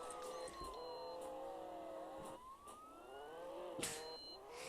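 A police car siren wails in the Roblox game Jailbreak, its pitch sweeping up and down over steady engine noise, with a few sharp knocks in between and no talking.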